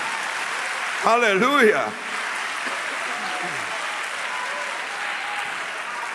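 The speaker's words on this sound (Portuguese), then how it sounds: "Mas o aplauso até que esquente a mão" A church congregation at a Gideões gathering applauds steadily throughout, with one voice calling out loudly near the start above the clapping.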